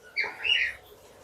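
Caged oriental magpie-robins (murai batu) at a breeding farm give a short burst of bright chirps, two quick calls close by, then the air falls quiet.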